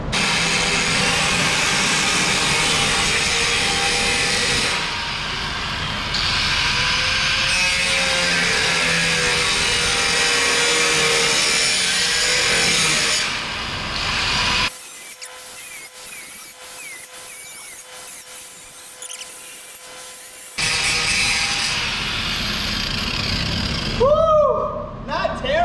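An angle grinder cuts along a marked line, giving a loud, steady high-pitched whine that runs for long stretches with short pauses between passes, and people talk nearby.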